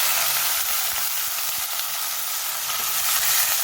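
Cabbage and potato with green garlic and green chillies sizzle steadily in a hot pan, a close, continuous frying hiss with faint stirring clicks and no talking.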